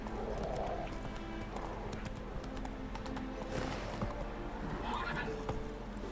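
Horse hooves clip-clopping in The Witcher 3 video game, with a couple of whinnies over a rhythmic steady gait, up close, and a voice speaking faintly at times.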